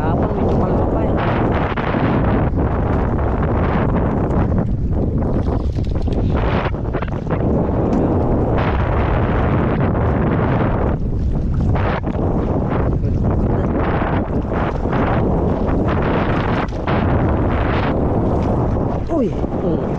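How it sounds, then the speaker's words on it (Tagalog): Strong wind batters the microphone out on open water by a boat, a loud continuous roar with heavy gusty buffeting that swells and dips throughout. "Hangin."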